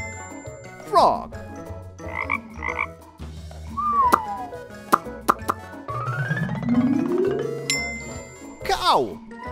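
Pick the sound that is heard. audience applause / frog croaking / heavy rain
frog croaking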